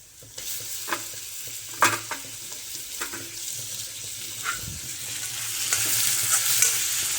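Onion and tomato fry in an iron kadhai, a soft continuous sizzle under scraping stirs of a spoon against the metal, with a few knocks and a rise in frying hiss toward the end, close and without talk.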